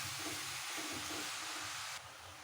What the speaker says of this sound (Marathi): गाजर पूर्ण तुपामध्ये असं मिक्स करून घ्यायचं